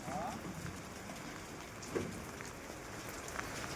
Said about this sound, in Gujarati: હવે જોઈ લો વરસાદ ચાલુ है